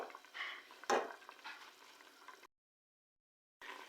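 Garam masala and black pepper powder being mixed into cooked white chickpeas, close spoon scraping and clinks against the pan over a soft sizzle, with a sharp knock near the start and a silent gap before it resumes.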